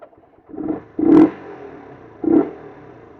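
Motorcycle engine at close range, used on a Leh–Ladakh ride, revved in three short throttle blips, the middle and last the strongest, with a low idle rumble between them and no talk.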